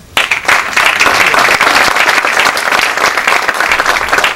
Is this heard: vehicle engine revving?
no